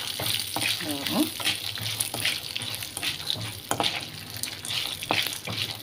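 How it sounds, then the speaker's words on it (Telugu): Urad dal, coriander seeds and cumin fry in oil with a busy sizzle, and a spoon stirs and scrapes the pan in close, irregular strokes. "మినప్పప్పు, ధనియాలు, ఒక టీ స్పూన్ అంతా జీలకర్ర దీనిలో వేసేసుకున్నాం. ఇవన్నీ వేసుకున్నామండి ఆయిల్లో."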